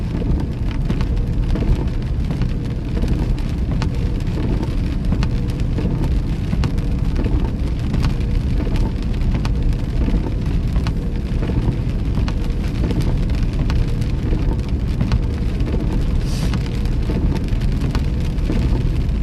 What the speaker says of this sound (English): Nice calming sound of the rain's nice too.